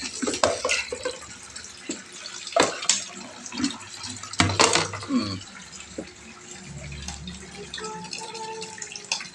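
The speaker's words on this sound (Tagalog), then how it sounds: "Kinukutsara mo yung tubig?" Water being scooped and splashed with a spoon during bathing, a series of irregular splashes, drips and pours up close with quiet background noise.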